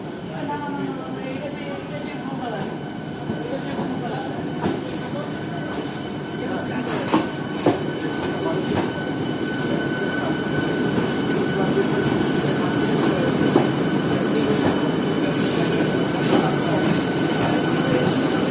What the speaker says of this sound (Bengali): আমাদের ট্রেন এসি লোকাল এখন এক নম্বর প্ল্যাটফর্মে আসছে